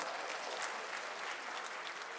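Audience applause at a literary festival event in India, a steady wash of clapping from a sizeable crowd that holds evenly throughout, with no talking over it.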